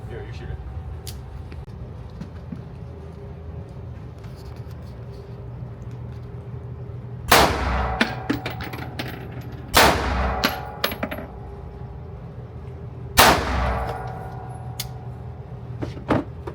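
Three sharp, loud gunshots ring out at a shooting range, spaced a few seconds apart, over steady background noise with faint voices.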